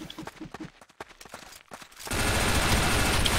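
Video game gunfire, a first-person shooter battle, starts as a burst of separate rapid shots over faint voices, then becomes a dense, loud, continuous roar of fire.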